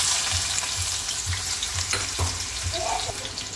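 Onions sizzle and fry in hot oil for a mushroom curry, giving a steady close crackle broken by a few soft stirring knocks, with no voices.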